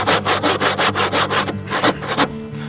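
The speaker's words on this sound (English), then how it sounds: "I hate sawing upside down." Hand saw cutting through a wooden keel timber while working upside down, a steady run of about ten rhythmic back-and-forth strokes, close and loud, slowing toward the end.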